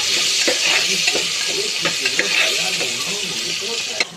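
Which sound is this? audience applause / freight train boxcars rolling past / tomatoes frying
tomatoes frying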